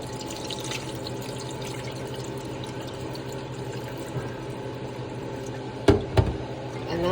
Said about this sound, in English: I'm gonna rinse it off one more time